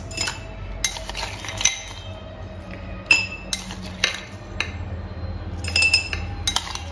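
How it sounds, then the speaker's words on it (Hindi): Ice cubes dropped into a glass of jamun sharbat with mint leaves and lemon slices, a few scattered bright clinks and rattles of ice on glass, separated by quiet pauses. "आइस बहुत सारी डालनी है"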